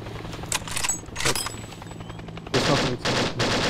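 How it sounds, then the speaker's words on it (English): Gunfire in the Arma 2 DayZ mod video game, with short distant pops and then a louder rapid burst of automatic fire near the end, against a low steady engine-like hum. "are you shooting at me?"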